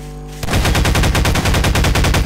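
Loud, rapid automatic gunfire from guns in Garry's Mod, with a brief lull and then a fast, even burst of shots that runs close up and without pause to the end.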